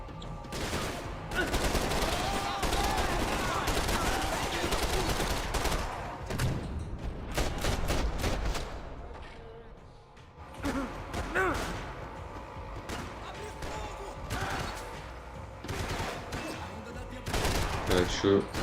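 Gunfire from a laser-sighted gun in the video game Max Payne 3: dense, rapid volleys of sharp shots in bursts over a busy game soundscape, loud and close throughout.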